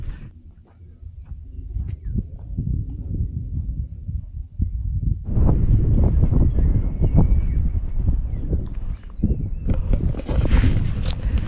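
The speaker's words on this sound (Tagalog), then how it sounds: "Medyo malakas ang hangin eh." Steady, blustery wind roars against the microphone in the Sto. Domingo highlands of Batangas City, growing louder and fuller partway through, with low rumbling buffeting throughout.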